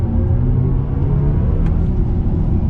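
BMW iX M60 electric car easing gently into the throttle, a steady low rumble and hum from inside the cabin, fairly loud and constant, with no talking.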